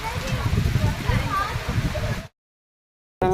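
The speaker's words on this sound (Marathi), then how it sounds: "बापरे पाऊस आला आहे" Steady, dense rain pours loudly and continuously at a cliffside Ganpati temple, a wide wash of falling water that cuts off abruptly partway through before returning briefly.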